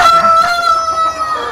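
Rhode Island Red rooster crowing at a poultry farm: a single loud, close, sustained cock-a-doodle-doo with a strained, drawn-out tone that fills the whole clip.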